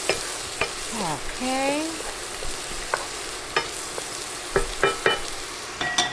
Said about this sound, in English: Let's give this corn a stir real fast.